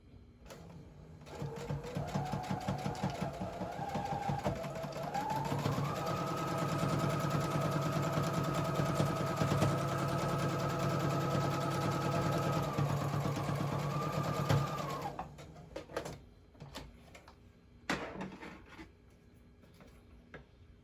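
A sewing machine runs steadily for about thirteen seconds, stitching Halloween costume fabric with a fast whirring hum that rises in pitch as it speeds up, then stops, leaving faint handling clicks.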